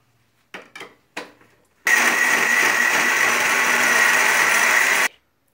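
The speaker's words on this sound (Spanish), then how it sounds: "Vamos a triturar la gel de la sábila junto con el limón." An electric blender whirs loudly for about three seconds, blending aloe vera gel with lemon and water, preceded by a few short knocks and clatters as the jar is set up.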